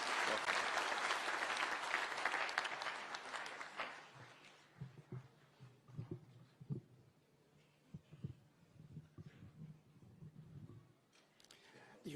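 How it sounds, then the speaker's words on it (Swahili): Loud, sustained audience applause at a Kenyan official gathering attended by the President fills the first four seconds, then fades into scattered claps, shuffling and murmurs. "Tumpigie makofi tafadhali."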